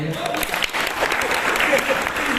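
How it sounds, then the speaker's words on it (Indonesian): Applause from a church congregation at GBI Galuh Mas Karawang, a dense, steady patter of many hands clapping that continues for the whole short stretch, fairly close and loud, with faint voices mixed in. "Gak ada yang tepuk tangan aja ya"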